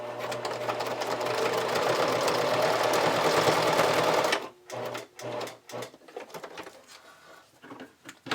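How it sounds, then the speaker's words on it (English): A sewing machine runs a tight zigzag stitch along a bralette strap, loud continuous whirring for about four seconds, then stops and leaves short scattered clicks and handling noises. "So I just use a tight zigzag stitch to stitch that in place."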